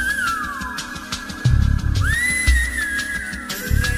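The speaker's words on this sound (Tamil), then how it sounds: "அவர் விசில் அடிச்சு கம்போஸ் பண்ணது." Melodic whistling rides over a song's accompaniment, a clear sustained tune that bends and glides, with percussion thumping underneath.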